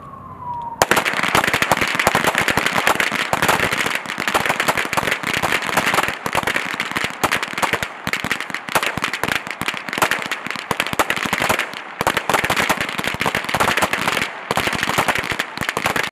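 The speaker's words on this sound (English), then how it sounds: "shooters will draw a pistol and engage target 1 and target 2 with 1 round each" Pistol shots ring out in rapid, dense succession at a military small arms championship as many shooters fire on targets at once, sharp loud cracks overlapping continuously from near and far.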